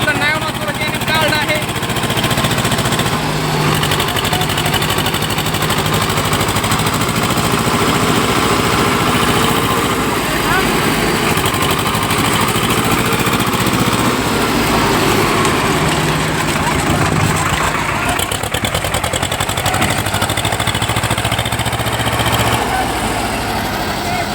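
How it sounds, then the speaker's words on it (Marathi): Tractor engine labouring as it pulls out of a muddy field, a steady loud drone with slight surges in load, nearby and continuous, with people talking and calling out over it. "थोडा जोर लावित आहेत पण थोडं थोडं ट्रॅक्टर निष्ठत आहे"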